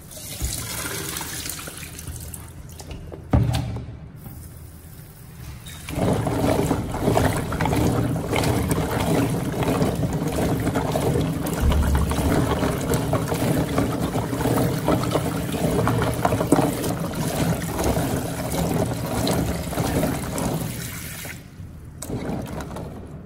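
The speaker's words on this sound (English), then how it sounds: "rinse them thoroughly 2 to 3 more times with clean water" Chestnuts are rinsed and rubbed by hand in clean water, giving sustained sloshing, splashing and swishing with running water, close and fairly loud, with a short quieter pause early on.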